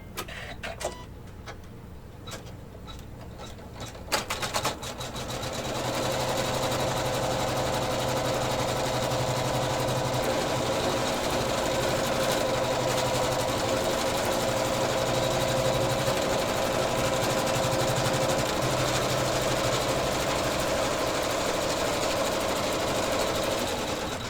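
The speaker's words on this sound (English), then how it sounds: "make sure my machine is at the proper spot for this tack down stitch, and away we go" An embroidery machine stitches a tack-down outline on fabric applique, starting after a few faint clicks and then running as a steady, fast mechanical chatter with a humming motor, close and continuous, no voices.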